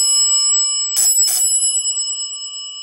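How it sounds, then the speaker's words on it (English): Houghton elevator bell wired to an Adams call station, struck twice in quick succession, each a loud bright metallic ding whose ringing tone lingers and slowly decays over the following seconds. "we got this Adams call station wired up to a Houghton bell from Sam."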